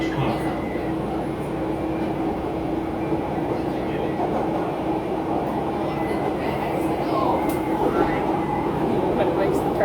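A Chicago subway train rides along with a loud, constant rumble and rattle inside the car, the droning roar steady from start to finish.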